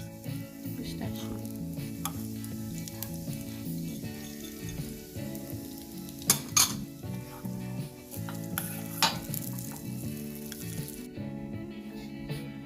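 Nuts, pistachios among them, toast in a pan with a soft continuous sizzle and occasional stirring clinks, lying beneath steady background music.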